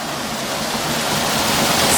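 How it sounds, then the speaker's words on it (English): A small waterfall in boggy watermeadows near Cockington Village, a steady broadband rush of falling water that stays constant and fairly close, slowly growing a little louder, with no voices. "Oh wow, a little waterfall."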